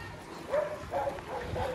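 Dogs bark and yip in a few short bursts at a moderate distance, outdoors on a sunny day, with faint background noise.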